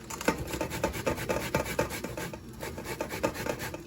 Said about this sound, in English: So I'm here grating the banana.